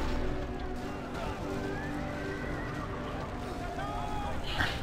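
Horses neigh and whinny repeatedly amid clip-clopping hooves and background bustle in a video game battle, with a sharp high cry near the end.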